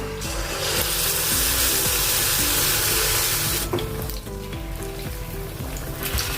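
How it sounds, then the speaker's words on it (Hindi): Wheat flour biscuit dough frying in hot oil in a wide pan, giving a loud steady broadband sizzle that fades somewhat partway through, with no talking. "तेल पहले से ही गरम है। तभी इसमें डालेंगे अपना आटा।"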